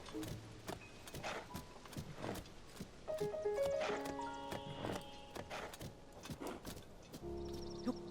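Horse hooves in Zelda Tears of the Kingdom, a steady clip-clop of a ridden horse with an occasional whinny over soft game ambience, faint and continuous, no talk.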